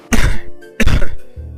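A character in an animated story gives two short, loud throat-clearing coughs close up, with a brief pause between them and no other talking.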